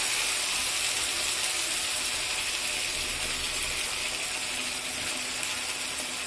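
Tap water runs into a mixing bowl as it is rinsed out, a steady close splashing rush with faint clinks of the bowl and no voices.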